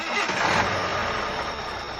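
A truck engine cranks and catches as a story sound effect, a brief rough mechanical burst that settles into a steady mid-pitched idle over two seconds.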